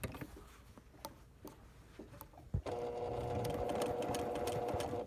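A sewing machine stitching a spider web quilt gives a few scattered clicks and taps, then starts running at steady speed with a continuous close whirring hum for the last couple of seconds, with no talk.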